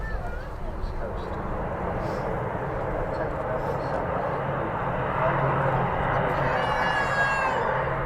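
A small, noisy propeller aircraft that operates on the East Coast oil routes runs its engine at Manchester Airport, a loud steady drone filling the air with a rising whine near the end, while people talk nearby.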